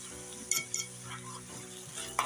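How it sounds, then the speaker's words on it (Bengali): Chopped onion and a little garlic sizzle steadily in hot oil while being stirred in a pan, a soft even frying hiss punctuated by a few light clinks of the spatula against the pan. "দিয়ে দিলাম পেঁয়াজ কুচি আর সামান্য একটু রসুন কুচি দিয়ে খুব ভালো করে এটাকে নাড়াচাড়া করে পেঁয়াজের কাঁচা পাকটা দূর করে নিলাম"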